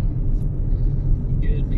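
A car rolling in neutral along the road at Wadi Jinn near Madinah, with a steady low road rumble and tyre noise throughout and no engine revving.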